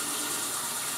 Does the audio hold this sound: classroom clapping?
no